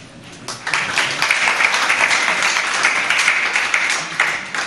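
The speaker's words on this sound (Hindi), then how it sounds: "जैसे आप लोग व्रत लेने के लिए तालियां बजा रहे हो" An audience claps steadily at a religious discourse, a dense, even burst of applause holding for several seconds at moderate loudness.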